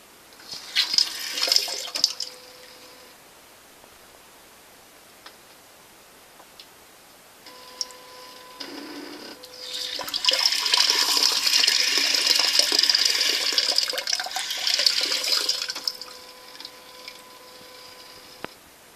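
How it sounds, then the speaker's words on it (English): A Japanese toilet's bidet sprays water in two bursts, a short hiss early on and then a longer, louder steady spray in the middle, with quiet ticking clicks between them. "the bidet button, which cleans the whole general area"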